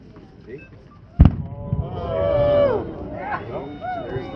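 An 8-inch blue-to-green firework shell bursts with one sharp loud bang near the start, followed by a crackling, whistling trail as the colors change, with crowd murmur and voices throughout at an outdoor winter fireworks showcase.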